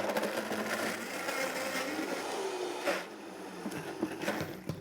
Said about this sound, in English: blend this down in high-speed blender till it's creamy, rich, and slushy cheesecake-like